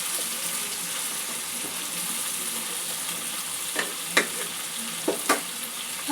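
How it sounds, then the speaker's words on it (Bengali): Ridge gourd sizzles in a frying pan with a constant bright hiss, and a few soft scrapes from a spatula turning it come late on, close by. "ঝিঙেটাও দিয়ে দেবো। সব কিছু একটু নাড়াচাড়া করে নেব।"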